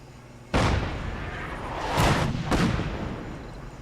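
Artillery barrage in Fallout 4: a sudden heavy blast, then a rolling rumble and two more booming impacts close together, loud and broad with no talk over them.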